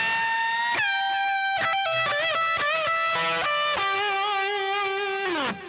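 Electric guitar with an effects-laden, slightly distorted tone plays a minor pentatonic lick: a run of sustained notes with bends, slides and a long held bent note near the end, loud and alone with no talking.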